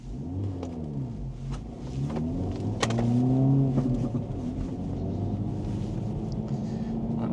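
Cars launch off the line in a drag race between a 2024 VW Golf R, an Acura Integra Type S and a Hyundai Elantra N, engines revving up in rising sweeps into a sustained accelerating roar, moderately loud.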